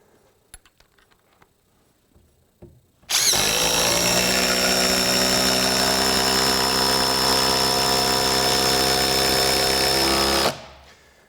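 A RIDGID brushless 1/4-inch three-speed impact driver, model R862311, running a 3 amp hour Octane battery, whirs loudly and continuously for about seven seconds as it drives a fastener, then stops abruptly after a few faint clicks beforehand.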